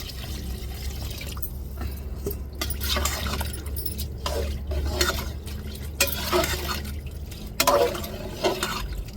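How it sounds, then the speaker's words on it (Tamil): Water pours and splashes steadily into a pot of rice for vegetable biryani, with occasional clinks against the metal and a low steady hum underneath; no one speaks. "இப்போ அரிசி எந்த அளவுக்கு எடுத்துருக்கோமோ அதே அளவுக்கு தண்ணி சேர்த்துக்கிடுவோம்"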